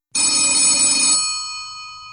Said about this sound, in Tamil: பட் அப்போ சடனாக என் கிளைண்ட் கிட்டேருந்து ஒரு கால்.